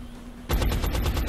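Machine gun fire in the video game X-COM: Enemy Unknown erupts suddenly after a brief quiet hum, a loud, close, rapid burst of repeated shots rattling continuously to the end.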